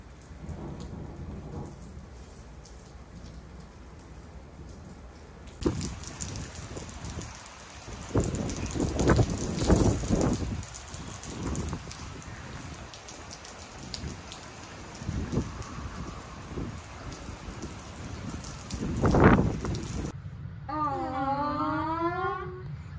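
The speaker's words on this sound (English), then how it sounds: "There's a storm out there." A thunderstorm with steady rain on surfaces, broken by several loud rolling thunder cracks over about twenty seconds, with a faint voice near the end.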